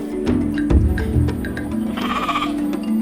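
Sheep bleat on a hillside in South Garut, Indonesia, with a loud, close bleat standing out near the end over a busy outdoor background and scattered handling noises.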